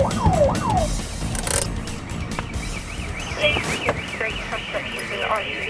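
An intruder alarm sounds at business premises, a warbling electronic siren cycling rapidly up and down, loud and persistent, with some clattering and faint background talk mixed in.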